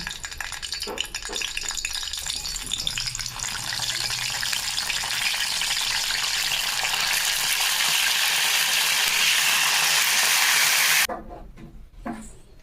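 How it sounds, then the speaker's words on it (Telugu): Eggplants frying in hot oil for a stuffed eggplant curry, a loud, dense, continuous sizzle close up that holds steady for about eleven seconds, then cuts off abruptly into near quiet. "వంకాయలను ఫ్రై చేసి పక్కన పెట్టుకోవాలి."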